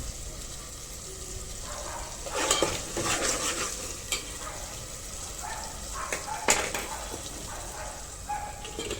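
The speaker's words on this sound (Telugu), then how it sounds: "అందులో 1 స్పూన్ ఫుల్ అల్లం వెల్లుల్లి కొబ్బరి కలిపిన పేస్ట్ కదా, అది వేసి ఫ్రై చేసుకుందాం" Ginger, garlic and coconut paste is fried in oil with cumin for a baby potato curry. A soft, steady sizzle sits under louder scraping stirring strokes, with occasional clinks of a spoon on the pan.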